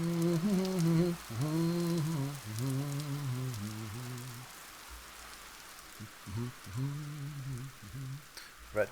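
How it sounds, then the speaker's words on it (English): Steady soft patter of rain in the Vintage Story game, a continuous hiss running under louder tonal humming sounds that come and go. "I hear the rain going away"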